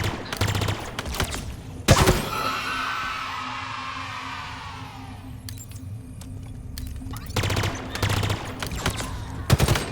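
Sustained gunfire in Halo Infinite, a near, loud volley of rapid shots that opens the clip and returns in dense bursts toward the end, with a sharp crack near two seconds and a quieter stretch between.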